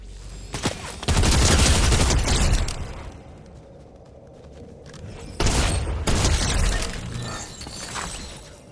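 Gunfire in the video game Fortnite comes in two loud, sustained bursts of rapid shots with crackling impacts, separated by a quieter lull and unaccompanied by talk.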